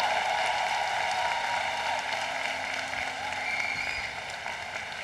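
Sustained applause from a large crowd at a university commencement ceremony, a steady dense wash of clapping holding at an even level throughout and easing slightly toward the end, with no talking over it.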